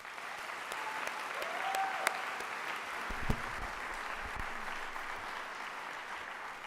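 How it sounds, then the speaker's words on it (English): At a high school baccalaureate ceremony, an audience applauds for administrators, teachers and parents: a steady, even wash of many hands clapping, somewhat distant, with a couple of sharper claps standing out. "Let's give them a round of applause."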